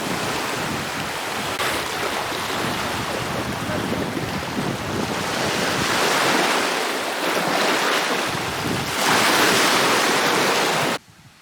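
Sea waves surge and wash around a pointed headland on Koh Samui, with a constant loud rushing roar and gusts of wind on the microphone, and no voices.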